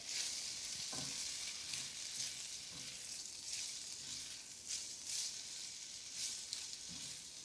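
Shrimp sizzle in a hot pan while being stirred for a shrimp risotto, an even, close frying hiss with faint scraping movements throughout and no speech.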